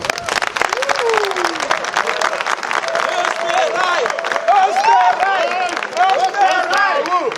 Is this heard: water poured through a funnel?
no